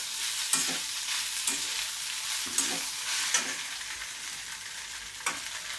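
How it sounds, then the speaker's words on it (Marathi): Poha is stirred in a wok with soft, steady scraping and light sizzling as it is fried, with sharp clinks of the spatula against the metal recurring about once a second. "पोहे थोडे थोडे घालून हलवायचे एकदम घालायचे नाही"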